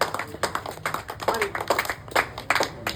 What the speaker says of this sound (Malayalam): ഉഷാറായി ഒന്ന് കൈയടിക്കണം